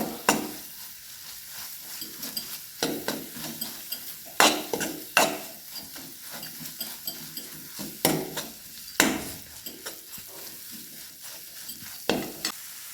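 Gram flour fries in hot oil with a low sizzle, while a spatula repeatedly scrapes and clanks against the pan in irregular bursts, close and fairly quiet, with no voices.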